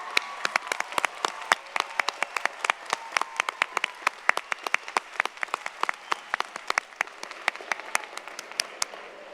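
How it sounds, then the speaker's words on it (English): Applause at a college commencement ceremony, a dense sustained round of clapping from a large crowd in a hall, steady and even throughout with no talking. "One more round of applause."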